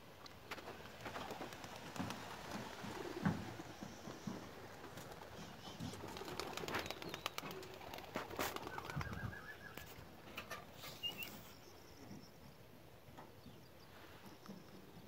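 Racing pigeons flap and flutter in a burst of wingbeats, scattered clattering and faint cooing, fading to quiet near the end.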